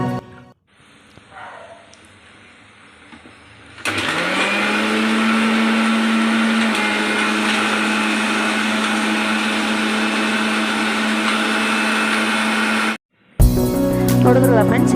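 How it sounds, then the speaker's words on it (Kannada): A kitchen mixer blender whirring mango milkshake kicks in abruptly after a quiet stretch, holding a loud, steady close-up hum for about nine seconds before cutting off, followed by a brief burst of other noise. "ಇವಾಗ ಮಿಕ್ಸಿಗೆ ಹಾಕ್ಕೊಳ್ಳೋಣ"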